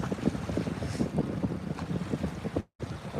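Steady wind blowing over an open reservoir in fall, a continuous broadband rush with gusting buffets against the microphone and a brief dropout near the end.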